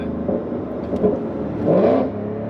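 A Whipple-supercharged Ford Mustang GT accelerates in a short-shifted run, its engine note rumbling steadily close by, then swelling in a louder rising surge before easing back, with no talk.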